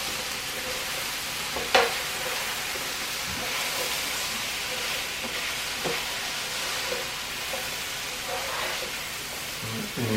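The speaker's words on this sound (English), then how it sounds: "you saute this together with the potatoes and onions and peppers for about a minute" Sweet potatoes, onions and peppers sauté with spices in a pan for sweet potato and black bean chili, giving a steady close sizzle and frying hiss with a few spoon scrapes and clinks throughout.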